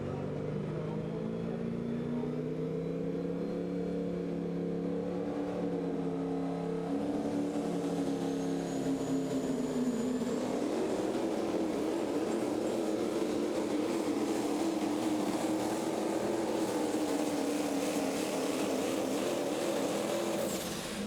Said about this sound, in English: comes up here and plays with the Pro Stock diesel trucks